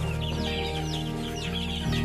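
Young chicks raised apart from the hen peep in a steady stream of high chirps over a constant low hum, with no talking.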